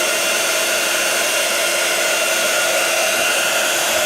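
A heat gun warms embossing powder on a card, giving a loud, steady blowing whoosh that holds unchanged throughout.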